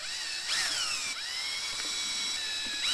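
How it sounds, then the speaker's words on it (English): A DeWalt power drill whirs at high pitch as it drills small pilot holes into plastic, the motor revving up and down in short bursts, close and continuous. "I'm going to take my DeWalt drill here and I'm just going to simply drill into those pilot hole marks."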